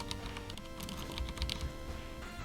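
Someone types on a computer keyboard at close range, producing a quick, irregular run of light plastic clicks and taps. No one speaks.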